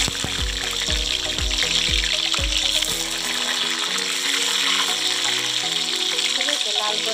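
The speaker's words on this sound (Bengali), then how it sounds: "দেখো এই সাইডে মাছগুলো ভাজা হচ্ছে" Rohu fish pieces fry in hot oil with a loud, continuous sizzle, joined early on by a run of low rhythmic thuds that fade out while the hissing carries on.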